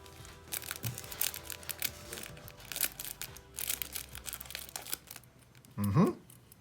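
Close crinkling and crunching of plastic packaging as it is cut with sewing scissors, in irregular bursts, with a brief vocal sound near the end.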